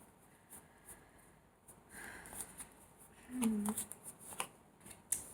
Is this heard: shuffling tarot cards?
yes